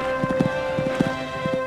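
Hooves thud in quick, rhythmic pairs as a horse canters between fences at amateur show jumping horse trials in Sydney, fairly close and clear with little else over them.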